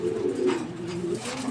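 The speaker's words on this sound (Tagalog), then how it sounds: "Ayan yung ibon ni Boss James. Nandiyan na. Sa trapping na." Racing pigeons coo at the landing trap of a loft, a low, steady, rolling coo held throughout, close and clear with no talk.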